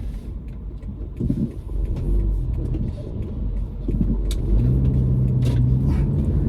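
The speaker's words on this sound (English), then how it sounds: "Sorry, I'm trying to focus on driving right now." A car being driven, with a steady low engine rumble and road noise throughout, rising slightly as it accelerates, heard from inside the cabin with no talking.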